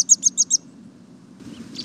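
A small bird that visits sugar feeders on St. John gives four quick, high chirps in a close, clear burst, then softer twittering after a short pause.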